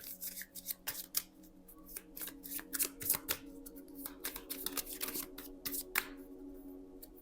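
Oracle cards are shuffled and drawn, producing a close, rapid run of crisp riffling and slapping card sounds in uneven bursts, with soft handling noises between them.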